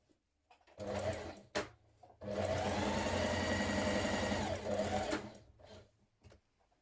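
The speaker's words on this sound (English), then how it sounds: "we're going to stay stitch around the neck edge" A sewing machine stay stitching along the raw neck edge of a shirt, running in a short burst, pausing briefly, then whirring steadily for several seconds before stopping, close and fairly quiet.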